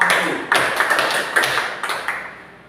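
Applause from a classroom of schoolchildren for a presenting group, a fairly close burst of claps with sharp separate strikes standing out, gradually thinning and fading.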